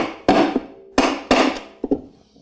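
A big hammer strikes car spindle parts from a Ford Falcon, Comet or Mustang, four hard metallic blows spaced unevenly with ringing decay between them, close and loud with no talking.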